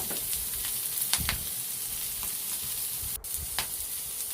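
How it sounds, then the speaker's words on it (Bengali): Chopped carrots sizzle and fry in a hot pan for oats upma, a steady dense hiss with a few brief stirring clinks, close and continuous with no talk. "গাজরগুলো দিয়ে দিলাম। গাজরগুলো হালকা করে ভাজার পর তারপরে টমেটো দেবো।"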